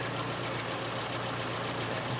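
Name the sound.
small Kent engine with factory carburetor idling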